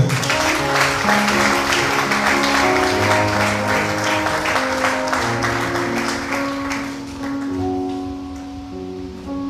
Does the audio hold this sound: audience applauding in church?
yes